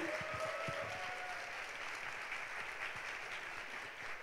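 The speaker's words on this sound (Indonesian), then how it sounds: "Boleh beri tepukan yang paling meriah untuk ADAC membernya Amway Indonesia." Dense, steady applause from a large audience at an Amway Indonesia event for its ADAC members, a continuous wash of clapping that holds evenly throughout, moderately loud, with a faint voice briefly at the start.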